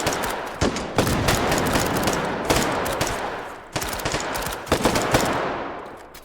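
Sustained bursts of automatic gunfire in the VR shooter H3VR, loud and dense rapid fire with sharp individual cracks, pausing briefly before resuming; no talking.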